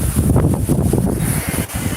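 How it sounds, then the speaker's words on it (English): Outdoor wind buffets the microphone on a gusty day, a steady low roaring rumble that swells and dips slightly throughout, with no clear voices. "So windy today."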